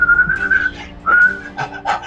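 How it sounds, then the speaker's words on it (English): A person whistles a short melodic phrase, clear and close, with a sustained wavering tone, a brief break, then a few quicker rising notes. "My whistling sounds sort of like."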